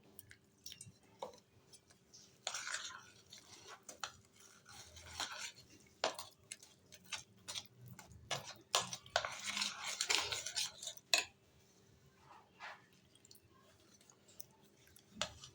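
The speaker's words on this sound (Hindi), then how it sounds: "चम्मच लेकर ना आपने अच्छे से इसको मिक्स करना है।" A spoon stirs pakora batter in a bowl, giving soft wet squelching and scraping strokes with occasional clinks against the bowl, irregular and close.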